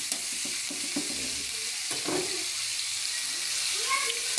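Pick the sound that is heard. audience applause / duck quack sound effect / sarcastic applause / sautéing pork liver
sautéing pork liver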